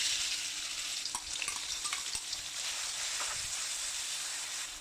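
Pounded curry paste stir-fries in about three tablespoons of hot oil in a wok, turned with a ladle while making stir-fried pork leg with lemongrass; a steady, dense sizzle runs throughout with a few soft scraping knocks, and no one speaks.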